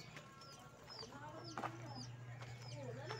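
Chickens and fighting roosters on a rural farm cluck and call repeatedly at close to middle distance, with brief crows and chirps over steady low background hum.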